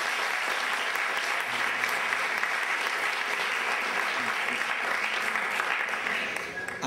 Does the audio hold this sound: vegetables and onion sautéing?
no